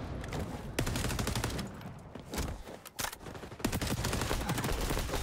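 Repeated gunfire in XDefiant, a busy exchange of loud close shots and automatic bursts with brief lulls, plus faint footsteps, no talking.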